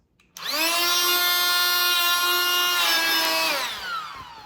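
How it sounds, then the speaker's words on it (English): An electric blower starts abruptly and runs as a loud steady whine while inflating an inflatable dog float, holding its pitch for about three seconds before dropping and winding down. "And right now, I have this blower. So we're gonna try to blow it up with this"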